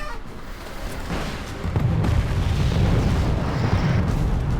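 Bombing run striking T-55 tanks in the Cold War strategy game Wargame: AirLand Battle, a dense, growing barrage of heavy low booms and rumbling blasts that thickens partway through and stays loud.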